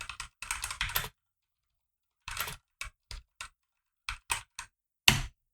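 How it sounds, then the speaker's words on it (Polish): Computer keyboard keystrokes as a captcha code and password are typed, a dense burst of rapid clicks, a pause, then several short separated taps ending in one firmer press; close, crisp, with no talking. "przepisujemy kodzik dla bezpieczeństwa i wybieramy hasło"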